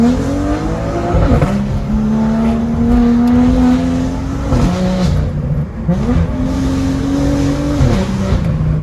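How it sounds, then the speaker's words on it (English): A car with an M Performance exhaust revs hard and loud up close, exhaust snarling as the pitch climbs, drops back, and climbs again with each throttle blip. "I love the sound of my M Performance exhaust"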